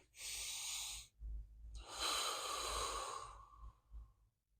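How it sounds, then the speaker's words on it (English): A demonstration of deep diaphragm breathing: one close, steady inhale lasting about a second, then a longer, airy exhale tapering off, with no talk. "Your shoulders should never move when you're taking a deep breath."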